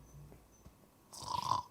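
A voice imitates snoring, a quiet breathy lead-in followed by a rough rattling inhaled snore that swells loudly at the end.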